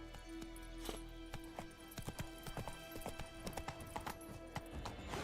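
Hooves of Roach, Geralt's horse in The Witcher 3: Wild Hunt, clop in a quick steady rhythm as the horse runs, each hoofbeat sharp and close over a constant low game ambience, with no one speaking.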